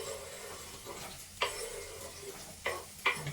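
Chillies, onion and capsicum sizzle gently in a pan while a spoon stirs and scrapes, with a few sharp clinks against the metal, quiet and close.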